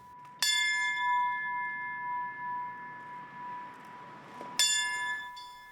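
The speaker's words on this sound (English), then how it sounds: "The ringing of the bell to remember those who lost their lives in service 15 years ago." A single remembrance bell strikes loudly at a 9/11 memorial, its clear tone ringing and slowly fading for several seconds before a second strike rings out again.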